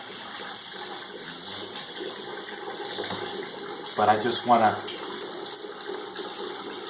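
Water runs steadily out of sawdust and paper briquettes as a 2-ton hydraulic body-shop jack presses them, a continuous trickling wash with someone talking over it midway.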